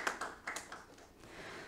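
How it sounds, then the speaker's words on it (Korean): Welcoming applause for an introduced guest at a 2021 Bupyeong Cultural Center symposium: a few sparse, quiet claps spaced out over under two seconds, thinning to a faint room tail. "한 분 한 분 소개해 드릴 때마다 환영의 박수 부탁드리겠습니다"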